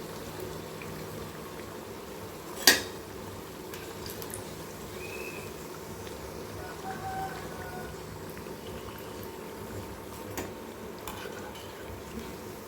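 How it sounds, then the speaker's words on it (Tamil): Raw banana bajji fry in oil with a faint, constant bubbling simmer, broken by one sharp knock early on as the fritters are lifted out to drain; quiet and close, no voices. "இப்போ வெந்துருச்சு நம்ம பஜ்ஜியை எடுத்துக்கிடலாம் எண்ணெயை வடிச்சிட்டு நல்லா எடுத்துக்கலாம்"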